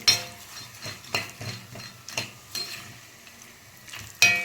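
Ingredients are stirred and sautéed in an iron pan for vatha kuzhambu, a tangy South Indian tamarind gravy. A soft sizzle runs underneath while a spoon scrapes and knocks against the metal at irregular intervals.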